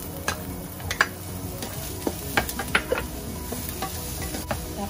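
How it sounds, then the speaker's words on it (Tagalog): Onion sautéing in a pan for ginataang kalabasa with pork gives a soft, steady sizzle, broken by several sharp taps and clicks of a utensil against the pan. "ituloy natin igisa ang ating sibuyas"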